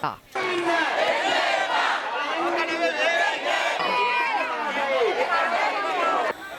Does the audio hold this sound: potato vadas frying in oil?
no